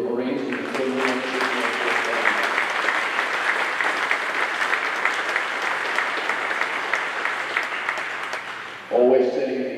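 Sustained applause from a large audience at a Marine Corps change of command ceremony at MCAS Futenma, steady and dense for several seconds, with a voice speaking over it near the end.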